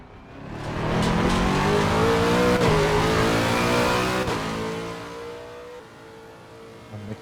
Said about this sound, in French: Un excellent son moteur aussi, agréable à piloter